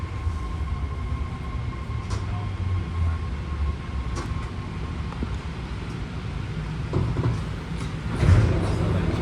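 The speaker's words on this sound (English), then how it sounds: "here we are pulling into South San Francisco Station." A BART Red Line eight-car train pulling into South San Francisco Station, heard from inside as a steady low rumble with faint clunks and a louder thump near the end, under a light background murmur.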